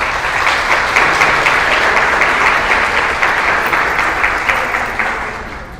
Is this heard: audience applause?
yes